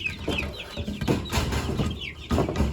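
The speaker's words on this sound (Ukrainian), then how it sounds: "Два півники є і одна курочка." Roosters and a hen clucking close by in a backyard poultry flock, with irregular overlapping clucks and short calls over a steady rustling farmyard background, and no talking.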